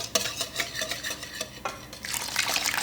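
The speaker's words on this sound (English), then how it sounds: "And then I stir this." A spoon stirs a skim-milk skyr mixture in a bowl, producing a steady run of soft scraping and clinking strokes close up, with no talking.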